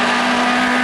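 A Grac MT14S 2-litre race car at a hill climb course, its engine a loud sustained high-pitched drone held steady for a brief moment.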